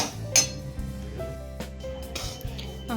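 A spoon stirs semolina with butter in a pan, giving scattered metallic clinks and scrapes over a faint steady hum, with no talking.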